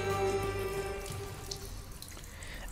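Tap water runs into a sink in the sci-fi horror game Stasis, a steady broadband wash that starts loud over a tonal musical drone and tapers slightly while continuing throughout.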